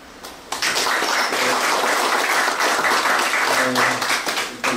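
Audience applause at a Korean amateur radio league's book publication ceremony, breaking out after a short quiet start and continuing as a thick, even wash of clapping until the end.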